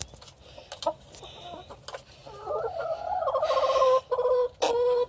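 Chickens cluck and squawk in a lively run of repeated calls that build louder and denser toward the end, close by with no talk over them.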